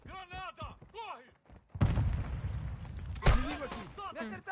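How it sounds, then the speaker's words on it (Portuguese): Grenade blasts in a shooting video game: two heavy, booming explosions with rumbling tails, one at mid-clip and a second sharper one shortly after, between bursts of excited shouting from players. "Granada! Corre!"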